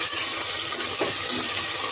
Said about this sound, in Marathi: याला कांद्याला फ्राय हो द्या, मी दाखवते तुम्हाला.